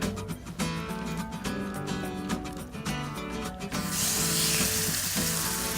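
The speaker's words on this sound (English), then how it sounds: "now that that's nice and hot, we're gonna go ahead and sear it" A dry-rubbed pork loin sears in a hot pan with a loud, steady sizzle. Intermittent scraping and clinking, probably tongs moving the meat, join in before the frying settles into an even hiss.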